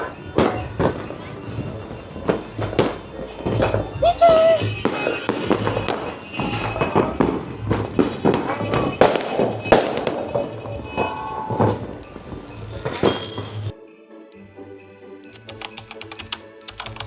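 Fireworks and firecrackers bang repeatedly outside a home during Christmas and New Year celebrations, a dense run of sharp loud pops and crackles for most of the stretch before thinning to scattered bursts, with faint voices mixed in.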